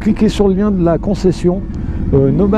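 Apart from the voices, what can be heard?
No everyday noise stands out behind the speech.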